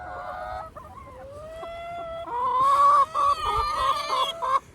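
Hens in a backyard coop cluck and squawk loudly, several birds calling over one another in rising, honking bursts, close by with no talking.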